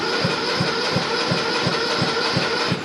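Small engine running steadily just after a choked cold start, a rhythmic low thumping pulse about three times a second, close and loud with no talk.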